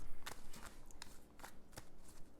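Tarot cards being shuffled, a few quick riffling bursts in a short irregular sequence, close and moderately quiet.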